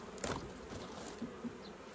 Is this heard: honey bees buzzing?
yes